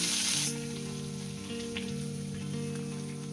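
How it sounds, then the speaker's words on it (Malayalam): Curry leaves hitting hot oil in a pan after mustard seeds have spluttered, for a papadam thoran: a loud burst of sizzling at first that settles into a steady, softer frying hiss, with no voices. "കടുക് നന്നായി പൊട്ടിക്കഴിഞ്ഞതിന് ശേഷം നമുക്ക് ഇതിലേക്ക് കറിവേപ്പില ഇട്ട് കൊടുക്കാം."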